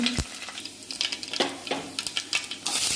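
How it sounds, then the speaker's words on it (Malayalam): Mustard seeds, ginger, garlic and curry leaves frying in coconut oil for a simple egg curry, a close steady sizzle broken by repeated spoon scrapes and light clicks of stirring, no talking. "കുറച്ച് വെളിച്ചെണ്ണ അടുപ്പത്ത് വെച്ച് കടുക്, ഇഞ്ചി, വെളുത്തുള്ളി, കറിവേപ്പില ഇട്ട് കൊടുത്തു"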